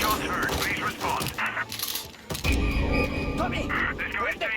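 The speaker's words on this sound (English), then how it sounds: "Gunshots heard. Please respond." Gunfire in the Mafia: Definitive Edition video game: sharp cracks and bursts of shots mixed with game sound effects, with voices talking over them.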